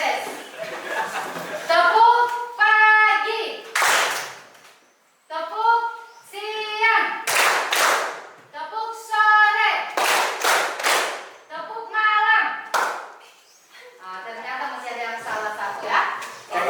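Children in an Indonesian classroom perform the rhythmic clapping game tepuk pagi siang malam, chanting together in bursts punctuated by loud clustered hand claps, with pauses between rounds and some laughter.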